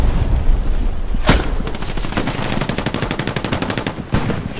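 Rapid automatic gunfire in the WWII shooter Hell Let Loose, during the Sainte-Mère-Église offensive: loud close bursts of machine-gun fire rattling off in quick succession, with a heavy report at the start and another shot near the end.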